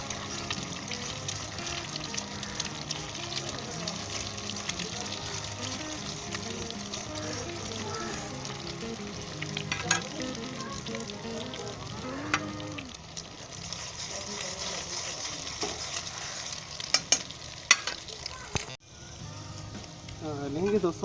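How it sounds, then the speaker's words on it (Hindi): Egg halwa sizzles and fries in desi ghee while a spoon scrapes and stirs the pan, a steady crackle with occasional sharp clinks and a brief pause near the end. "इससे मैंने मसलसल 2 से 3 मिनट के लिए अच्छे तरीके से भूना है।"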